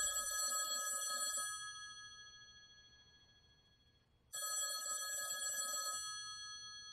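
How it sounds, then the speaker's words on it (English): A telephone bell rings in two loud bursts separated by a pause of about three seconds, with a quiet background between rings and no talking. "that phone over there is gonna ring"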